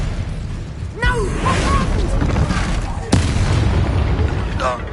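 Spell blasts crackle and burst in Hogwarts Legacy combat, sharp magical impacts at about one second and three seconds over a busy rumbling fight, with voices calling out between them.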